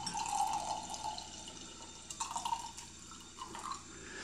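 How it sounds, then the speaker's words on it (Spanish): Cheap homemade red punch pours quietly into a small wine glass as a faint liquid trickle and splash, then stops. A few soft drips follow. No one speaks. "Vamos a servirlo en una copita"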